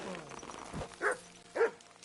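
A dog in Kingdom Come Deliverance 2 gives a couple of short yips and barks close by, with a soft whimper in between, over quiet game ambience.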